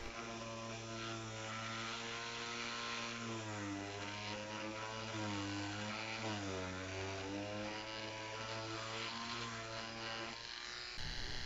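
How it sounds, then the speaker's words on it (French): A rotary tool fitted with an oval bit hollows out the inside of a 1/35 scale model bullet impact, giving a steady, loud, high-pitched whine whose pitch wavers slightly as the load changes, continuing alone until it stops near the end. "on reprend la mèche ovale et on va venir recreuser l'intérieur pour enlever le surplus"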